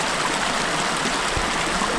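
A small brownish stream flows and trickles outdoors, a steady, even broadband rush of water close by with no voices.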